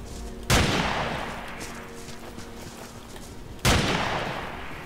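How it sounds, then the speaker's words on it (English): Heavy gunfire from the Omnicide mod of Battlefield 2, two sharp loud shots or bursts about three seconds apart, each followed by a long ringing decay over a steady rumbling battlefield background. "it's like I'm shooting them and nothing's happening"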